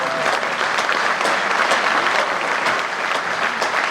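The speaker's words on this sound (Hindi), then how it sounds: "कविता पूरी हो गई, तालियां बजाइए।" Audience applauding at the end of a poem recited at a Hindi poetry gathering: dense, continuous clapping from a crowd, loud and steady for the whole stretch.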